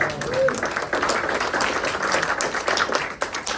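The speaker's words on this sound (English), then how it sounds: "Give yourselves a round of applause." Audience applause at a neighborhood history talk, a steady wash of many hands clapping that fills the room at moderate loudness with some voices mixed in.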